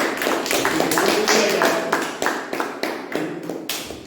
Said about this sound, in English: guys, let's have a thunderous round of applause